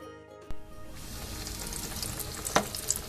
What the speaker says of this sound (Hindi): कुछ फ्राई करके दिखाती हूँ।